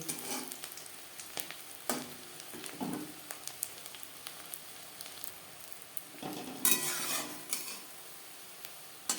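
Crispy egg pakoras frying in hot oil, a steady close sizzle punctuated by light scrapes and clinks of a utensil turning them in the pan.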